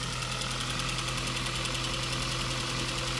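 A cheap used car's engine idles steadily with a low, even rumble and faint knocking, heard alone with no talking.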